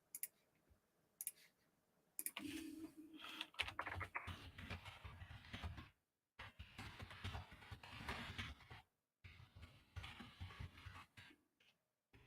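Rapid typing on a computer keyboard, bursts of close, quiet key clicks broken by short pauses, with a low background rumble in parts and no talking.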